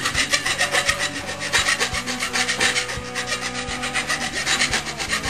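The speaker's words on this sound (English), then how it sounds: "Just lots of rubbing, basically. It should smoothen out a bit." A file rasping back and forth along a sword blade to smooth it, steady rhythmic scraping strokes repeating evenly and close up, alone without speech.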